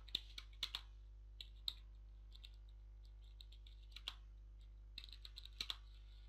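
Quiet computer keyboard typing comes in small bursts of clicky keystrokes with pauses between them, close but faint, over a low steady hum.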